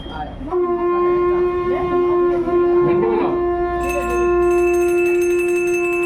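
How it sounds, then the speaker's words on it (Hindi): A ritual bell rings steadily during a Hindu aarti at a deep yagya in Ghatkopar, Mumbai. Clear sustained metallic tones sound close, with a second, brighter bell joining partway through and voices murmuring underneath. "घंटी बजाओ।"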